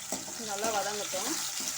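Chopped onion sautéing in hot oil with fennel seeds for a jackfruit seed masala, a steady close sizzle with soft stirring scrapes running throughout.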